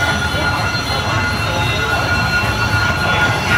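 Continuous loud rumbling roar of a train running on a line in Ho Chi Minh City, Vietnam, heard up close with a steady, unbroken wash of noise and a voice faintly mixed in.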